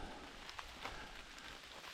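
Rain falls softly on a campsite at Salamonie, a faint, even patter with a few distinct drops standing out over the quiet hiss.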